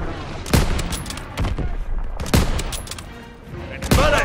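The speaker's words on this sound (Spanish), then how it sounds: "¡Ese cañón sigue disparando!" A cannon keeps firing in a World War II battle in Call of Duty: WWII, heavy sharp blasts landing roughly every second amid continuous battlefield gunfire and rumble, loud and close.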